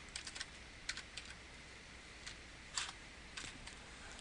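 Someone types an address on a computer keyboard: quiet, scattered keystrokes in small irregular bursts with brief pauses, close and soft against a faint room hiss.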